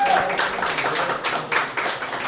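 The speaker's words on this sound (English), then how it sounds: "Can we have another round of applause for Steve?" Audience applause for a performer at a Halloween-night open mic writing event, a dense patter of clapping hands filling the room at steady loudness for a couple of seconds.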